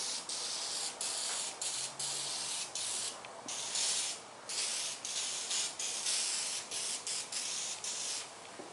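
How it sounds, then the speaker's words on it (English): Pinstripe remover is sprayed onto a surface in a rapid series of short, loud, close hissing bursts with brief gaps between them, and no one speaks. "We'll go ahead and spray it one more time."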